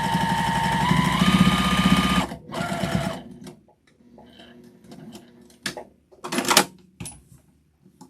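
A sewing machine back stitches a scrap-fabric mug rug, running a loud, steady mechanical whir for about two seconds. It then stops and is followed by quieter clicks and handling noises.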